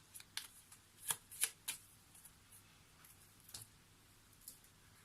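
Tarot cards shuffled and cut during a card reading, quiet close riffles and soft slaps, with a cluster of sharper flicks early on and then sparser taps.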